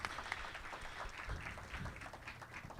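A crowd at a community talk series applauds continuously for the people who organized and staffed the event, a faint, dense, even patter of many hands heard from some distance.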